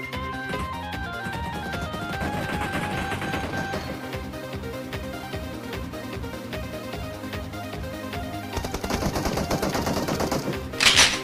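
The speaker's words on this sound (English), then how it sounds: "heavy machine gun" Heavy machine gun firing in PUBG: long, rapid strings of shots in a steady rhythm, loud and close, with a sharper burst near the end.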